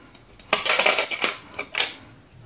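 An Intel Core i7 processor is fitted into a motherboard socket during a PC build, giving a short run of light metallic clicks and scrapes with a final click near the end, close and fairly quiet.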